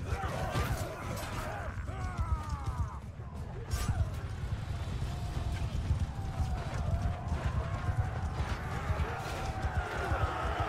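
Horses galloping in a Mount & Blade 2: Bannerlord battle, a steady rumbling clip-clop of many hooves with occasional whinnies and clashing, continuous and fairly loud throughout.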